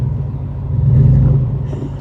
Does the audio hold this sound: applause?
no